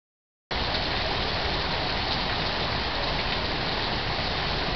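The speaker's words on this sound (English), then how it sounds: "it is pouring down rain" Heavy rain pours down by the edge of a backyard swimming pool, a dense, loud, unbroken hiss that starts abruptly and holds steady with no voices.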